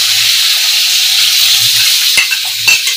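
Offal frying in a pan in a home kitchen, a loud steady sizzle and crackle with a couple of soft stirring knocks near the end.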